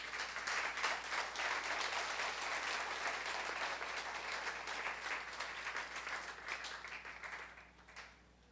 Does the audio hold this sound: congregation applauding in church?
yes